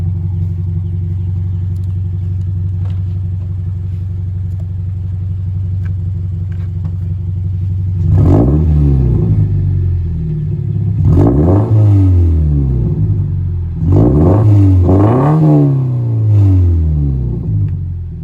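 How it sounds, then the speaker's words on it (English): A Scion FR-S with its muffler deleted idles with a loud, steady rumble, then revs up sharply three times in succession, each rev rising in pitch and dropping back to idle, close and with no talking. "So right now I'm about to rev it up."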